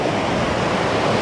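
Sea waves washing up on a beach, a steady broad hiss of surf with no distinct breaks, loud and continuous throughout the short stretch, no voices.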